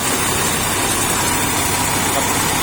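The Hino J08C turbo diesel, rated at 260 horsepower, runs on a combine harvester with a steady, dense mechanical drone heard up close and without pause, with no talking.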